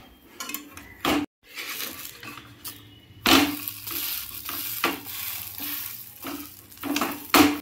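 Food frying in a pan at home, flipped over to crisp one side, with steady close sizzling and occasional utensil clinks and scrapes across the span, a brief quiet gap early on.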